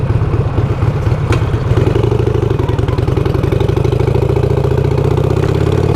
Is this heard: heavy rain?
no